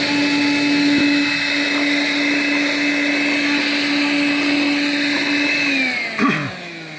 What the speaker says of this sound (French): pensez bien entendu aussi à aspirer les autres éléments